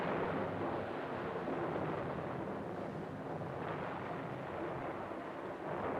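A raging thunderstorm from the film The Seventh Seal, a continuous heavy roar of rain and low rumbling thunder, steady and fairly loud, with no voices.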